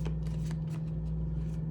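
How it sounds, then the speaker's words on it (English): A large tarot deck is shuffled by hand, giving quick soft riffling flutters in a few rapid bursts close up over a steady low hum. "we go back over to this big deck, shuffle up a little bit"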